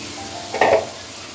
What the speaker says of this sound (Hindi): और अब इसको दही के साथ भून लें।